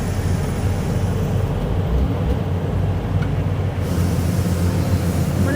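An airliner is pushed back from its gate at Qatar's airport, a loud, steady rumble of ground equipment and running aircraft systems that persists throughout with no talk.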